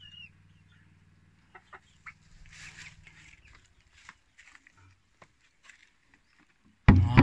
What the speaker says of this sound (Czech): To jsou takový hodně divný slepice.